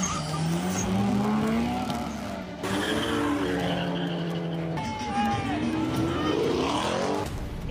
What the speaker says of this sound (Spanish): Es el rugido de potentes motores que anuncia el inicio de los piques ilegales.